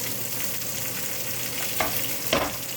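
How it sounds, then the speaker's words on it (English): Cranberries and black raisins cooking in about one and a half tablespoons of melted butter give off a continuous close sizzle, with two brief scraping knocks toward the end. "I'm going to melt this, and I'm going to cook the cranberry and the raisins"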